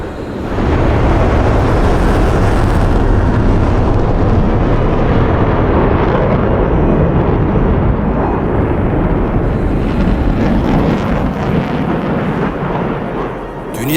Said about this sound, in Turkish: Jet sesi bu sanal gökyüzünü yırtarken bu sesi kulaklarımızdan kalbimize indirmeye hazır mısınız?